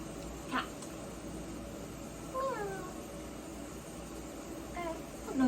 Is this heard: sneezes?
no